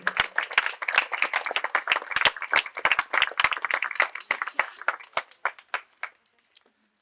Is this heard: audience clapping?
yes